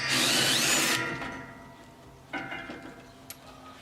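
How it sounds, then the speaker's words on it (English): A power drill removing bolts from a Hummer grille guard whirs loudly for about a second, then stops, followed by faint metallic clicks and a sharp clank. "So now I can use my drill"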